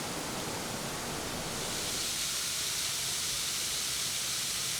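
A West Virginia waterfall roars steadily nearby, a dense continuous rush of falling water with no talk.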